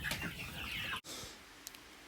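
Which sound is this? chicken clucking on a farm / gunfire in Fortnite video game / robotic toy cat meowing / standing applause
chicken clucking on a farm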